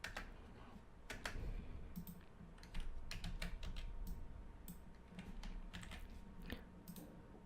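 Computer keyboard keys clack in short irregular bursts while a collage is built in image-editing software, quiet and close with small pauses between presses, and no talking.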